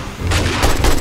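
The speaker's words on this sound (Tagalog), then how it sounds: "Sino sumabog? Suicide bomber." Suicide bomber explosion in the 7 Days to Die video game during a horde night, a loud, close, rumbling boom that fills the whole moment, with a second burst following.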